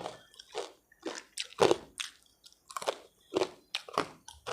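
Crunchy dried fruit being chewed close up, a series of sharp, crisp crunches in an irregular rhythm with quiet pauses between bites.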